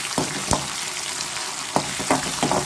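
Okra, shallots, dried red chili and curry leaves frying in oil after mustard seeds have popped, being made for sambar: a steady, close sizzle with scattered crackles and stirring clicks, no voices.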